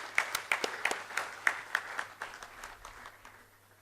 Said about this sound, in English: give a huge round of applause to the young organizers for this